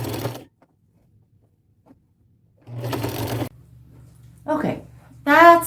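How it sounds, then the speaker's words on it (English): A home sewing machine stitches a zigzag seam on an upcycled top in short motorized bursts, a rapid whirring chatter separated by quiet pauses, with a brief voice near the end. "And I am just going to finish sewing that up."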